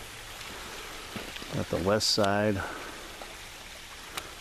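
Heavy water flows steadily at the west portal of the Hoosac railway tunnel after a night of hard rain, a constant broadband rush throughout, with someone briefly speaking over it.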